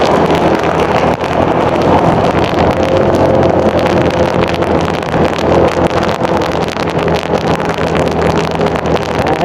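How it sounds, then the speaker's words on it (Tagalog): Heavy rain and rushing wind roar steadily over a running tricycle engine during a ride, a loud, continuous wash of noise with no pauses. "Medyo malakas na talaga yung ulan."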